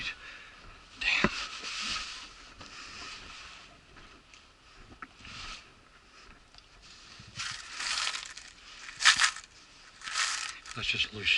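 Loose change jingles in a pocket, with a few bright clinks and rattles, the loudest near the start and again toward the end, amid rustling movement; faint speech is heard in places.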